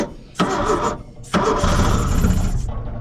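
A 1970 Opel engine cranks in two bursts when jumped across the starter solenoid after sitting for 41 years, the second longer burst churning on loudly and close without catching, with a short quiet gap between.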